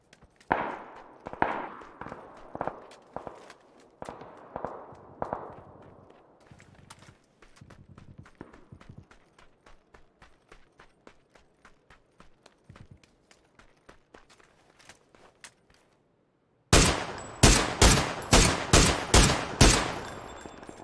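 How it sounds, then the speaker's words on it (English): Gunfire in the battle royale game PUBG: a string of single shots and quicker bursts that fades to softer, sparse cracks, a brief silence, then a loud, close run of rapid shots at the end. "How did none of those shots land?"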